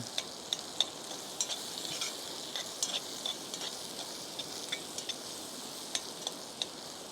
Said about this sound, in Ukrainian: Піджарюю трошки цибульку морковку.